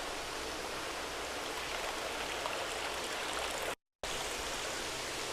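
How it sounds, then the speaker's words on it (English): Water rushes steadily into a fish tank once the supply is turned back on, a broad, continuous hiss of flow that runs close and loud without pause apart from a brief cut, with no talking. "Turn the water back on."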